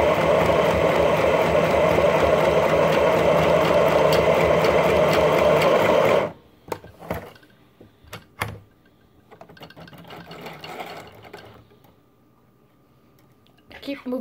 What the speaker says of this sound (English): Instead of sewing by hand, I got a sewing machine.